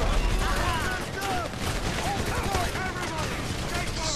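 Sustained gunfire from many weapons in GTA V Online during a four-player survival match on Del Perro Pier, steady and loud throughout with overlapping shots and ricochets, voices talking underneath.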